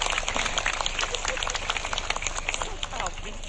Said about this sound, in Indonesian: tepuk tangan buat Pak Bupati kita sama Ibu